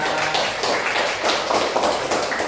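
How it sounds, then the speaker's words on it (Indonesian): A classroom audience applauds, a dense steady wash of many hands clapping together at close range, with no talk over it. "Oke, tepuk tangan buat Rika."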